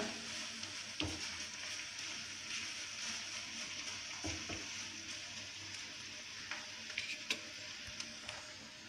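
Herbal hair oil simmering in a pan, a soft continuous bubbling sizzle with faint scattered pops and ticks, quiet and steady throughout.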